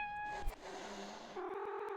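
A cat meows in the Webfishing video game, a short high-pitched game sound effect, clear and alone, followed by a brief second tone.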